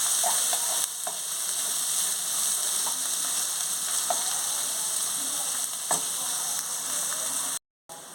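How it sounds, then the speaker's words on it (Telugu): Chopped onions and green chillies frying in oil for restaurant-style mushroom capsicum fried rice, a continuous bright sizzle broken by occasional spoon clicks and stirring scrapes, close by and without talk, cutting out briefly near the end. "ఆనియన్స్ పచ్చిమిర్చి కూడా వేసేసుకోవాలి కలుపుకోవాలి"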